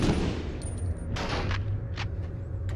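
Gunfire from the PS1 game Medal of Honor Underground rings out in several sharp bursts over a low rumbling game backdrop, moderately loud and spaced unevenly.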